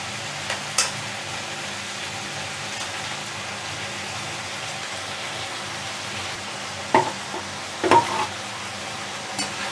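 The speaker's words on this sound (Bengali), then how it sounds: "আলুটা বেশ সুন্দর ভাজা ভাজা হয়ে এসছে" Potatoes and tomato fry in a wok, a steady close sizzle running throughout, broken by a few sharp stirring knocks near the end.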